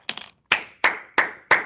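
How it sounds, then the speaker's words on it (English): One person claps hands sharply during a math lesson: a quick double clap, then four evenly spaced loud single claps close by. "We clap like this."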